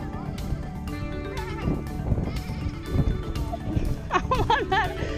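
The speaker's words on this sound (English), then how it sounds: "Look at the sheep." Scattered sheep bleats rise over a busy outdoor background, with a louder, wavering bleat near the end close to the listener.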